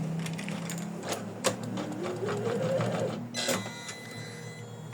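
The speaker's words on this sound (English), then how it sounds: "Keep your hands out of the way where your machine is stitching." Embroidery machine stitching an in-the-hoop daisy purse, a close, steady mechanical rattle with rapid needle strikes and a few sharper clicks throughout.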